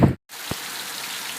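Heavy morning rain pours in a steady, dense hiss close by, with a brief gap near the start and a single low thump, with no voices over it.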